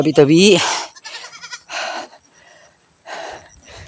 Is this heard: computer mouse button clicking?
no